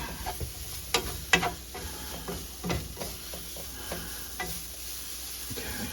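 Spices being stirred into meat and aromatics in a pot on the stove for a French Canadian tourtière filling, with a soft steady sizzle beneath scattered scraping taps of the spoon, fairly quiet and close.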